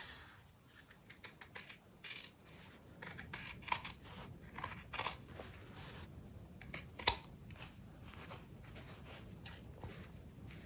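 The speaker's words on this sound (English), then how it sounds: "do trim this seam allowance nice and smoothly" Fabric scissors trimming the seam allowance of a handmade slipper boot, a quick run of close, crisp snips that comes in clusters, with short pauses between them.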